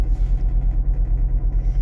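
A Ford Focus ST engine runs at a steady idle nearby, a low continuous rumble with a slight regular pulsing throb and no voices.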